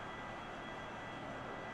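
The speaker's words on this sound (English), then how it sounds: "We are currently taxiing at an HP of 3 knots." An aircraft engine hums in a flight simulator game as the plane taxis slowly on the ground, a faint, even, unbroken drone with no voices.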